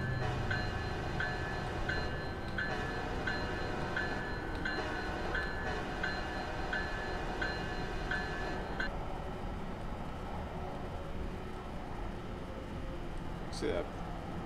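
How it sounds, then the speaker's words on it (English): A real train rolls past a residential property nearby, a low steady rumble with faint rhythmic clatter and a tonal ringing component that fades partway through, heard at a distance under an indoor room tone. "I actually got a real train going by my property right now"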